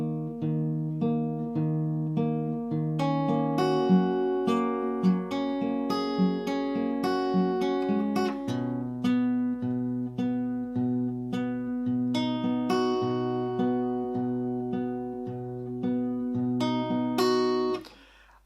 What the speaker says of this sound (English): So the second line of the verse sounds like this.